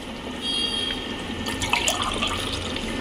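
Coconut milk is poured into a pot of mutton biryani in a home kitchen, giving a continuous close liquid splash and trickle that runs for about three seconds.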